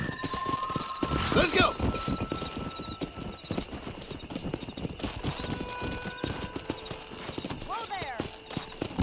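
A horse in the Red Dead Redemption video game galloping with rapid rhythmic hoofbeats, a brief whinny, under game music and spoken lines.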